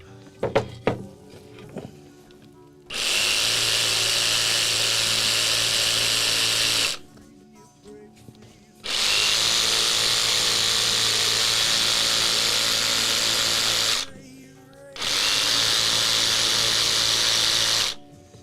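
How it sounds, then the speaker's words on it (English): A power sander works wood for a handmade mandolin in three sustained bursts of steady, loud whirring, each lasting several seconds with brief pauses between, after a few faint knocks at the start. "Sand that down, make it nicey."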